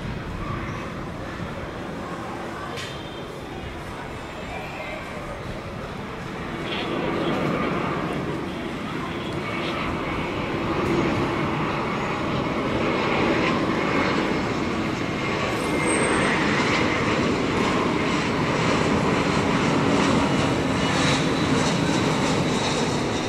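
A Vietravel Airlines jet lands on runway 25R at Tan Son Nhat airport, a broad steady engine roar that swells after the first few seconds and holds, with faint talk mixed underneath.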